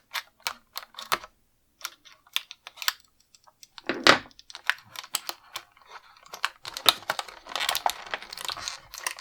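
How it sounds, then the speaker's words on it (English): Tape holding GI Joe toy armor pieces in their packaging is cut, giving a close series of sharp clicks, snips and plastic crinkles, sparse at first and then denser toward the end, with no talking. "So I'm going to go ahead and just cut the tape on it here"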